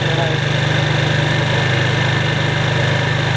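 A Genuine Buddy 125 scooter engine idles steadily and close by, a continuous low throbbing hum with a fast regular pulse and no pauses, its carburetor fresh from cleaning and its idle uneven.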